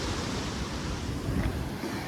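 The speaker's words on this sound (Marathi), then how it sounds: "जरा आवाज येत असलं वाऱ्याचा ह्याचा, पण घ्या आता सांभाळून, काय करणार. पाण्याचा आवाज तेच वारं पाणी." Arabian Sea waves washing onto the shore near the Kerala border under rainy weather, a continuous broad roar of surf mixed with gusting wind buffeting the microphone, loud and steady with no voices.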